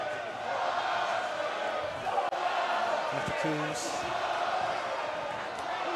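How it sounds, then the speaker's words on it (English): Munster rugby crowd in full voice during a preseason match against Leinster, a broad, steady roar of many distant voices filling the background while a commentator talks over it and a sharp thud cuts through midway. "The Munster crowd in full voice now."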